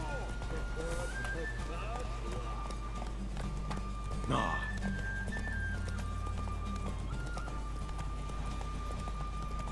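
Rhythmic hoofbeats of a galloping horse in The Witcher 3: Wild Hunt with a brief whinny, steady and mid-distance over a low droning background.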